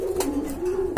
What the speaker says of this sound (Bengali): টোটাল ফ্রেশ কবুতর। আর গোলাপ জুটির কবুতর।